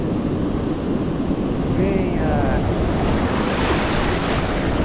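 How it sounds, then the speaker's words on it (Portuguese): Ocean waves wash in at Lagoa Redonda beach in Sergipe, a steady loud surf roar mixed with gusty wind noise across the microphone, with a brief spoken word over it. "Venha, ondas, até mim."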